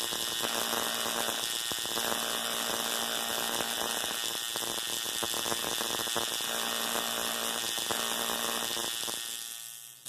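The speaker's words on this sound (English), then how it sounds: "as I crank the voltage, you see the beefy little discharge" A DRSSTC Tesla coil running on .5 w/460 transistors, tuned as voltage rises, gives a constant buzzing drone of spark discharges with strong harmonic hum, loud and unbroken for about nine seconds before cutting off.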